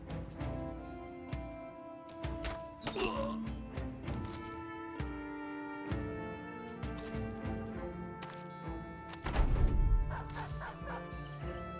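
War dog in the video game Battle Brothers barking and yipping in repeated bursts, heard over tonal game music with a loud clash near the end.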